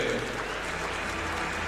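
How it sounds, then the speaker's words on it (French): A basketball arena crowd applauds the game officials, a dense, steady wash of clapping over a low crowd hum, with a loudspeaker voice faintly present beneath it. "Anthony, Christophe, Fred et Stéphane, vos applaudissements pour les officiels de la rencontre, s'il vous plaît."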